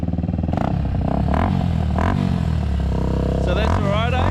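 A 1999 Honda XR250 dirt bike with a freshly rebuilt carburetor revs close by, its engine loud and rough, the throttle blipping repeatedly so the pitch climbs and drops, with a voice briefly underneath.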